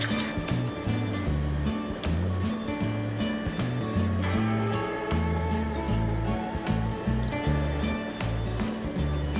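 Fish eggs rinsed under running water in a fish room, a steady close splashing pour under a strong low rhythmic hum of pumps or music, without speech.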